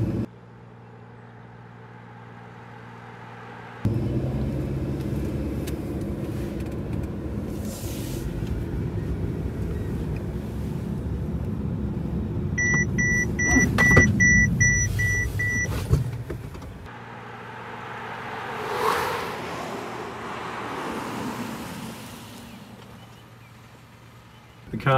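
A car's automatic emergency braking system stopping for a standing object ahead, with a run of sharp electronic warning beeps over steady engine and road rumble, while a person talks over part of it.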